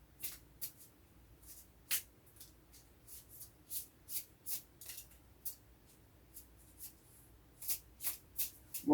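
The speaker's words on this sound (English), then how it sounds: "put it in the pile, and then shuffle it" Playing cards being shuffled by hand, heard as a series of quick, crisp riffling bursts at an irregular rhythm. The sound is close and fairly quiet against a hushed room, with no talking.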